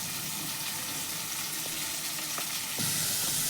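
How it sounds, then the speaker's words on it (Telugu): Onions, cashews, green chillies and cumin sizzling in hot oil in a kadai, a steady close crackle with occasional stirring clinks. "అదే కడాయిలోనే కొంచెం నూనె ఉంటుంది కదా, ఉల్లిగడ్డలు, 2-3 జీడిపప్పులు, 4-5 పచ్చిమిరపకాయలు, కొంచెం సాజీరా."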